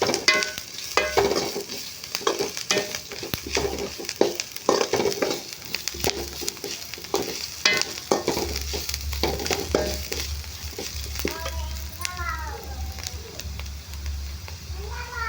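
Onions and turmeric fry in a pan while being stirred for idli upma, a steady sizzle broken by repeated sharp scraping strokes of a spoon, with a cat meowing near the end.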